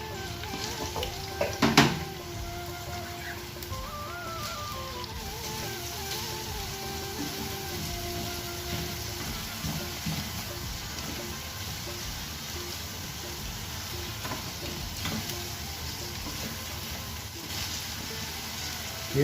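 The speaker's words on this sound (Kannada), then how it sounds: "ತೆಂಗಿನೆಣ್ಣೆ ಬಿಸಿಯಾದ ನಂತರ ಈರುಳ್ಳಿಯನ್ನು ಫ್ರೈ ಮಾಡ್ಕೋಬೇಕು" Onions frying in hot coconut oil in a pan, giving a steady, close sizzle that continues throughout, with a brief stirring clatter near the start and faint background music over it.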